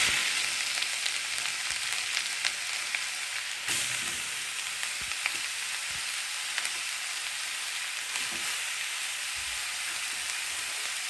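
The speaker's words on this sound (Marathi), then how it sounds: "मग त्याच्यामध्ये आपण गाजर टाकणार." Grated carrots for gajar halwa fry in a pan, giving a steady, close sizzle with soft stirring scrapes and occasional light clinks throughout.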